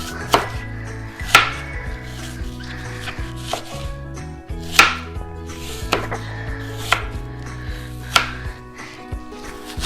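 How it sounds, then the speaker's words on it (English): A knife slicing Granny Smith apples on a cutting board, a series of sharp crisp cuts at an uneven rhythm with hard thuds against the board, close and clear. "So we're gonna start cutting now."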